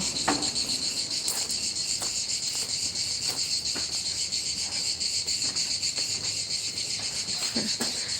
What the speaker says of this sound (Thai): ได้ยินแต่เสียงจักรจันนั่นแหละ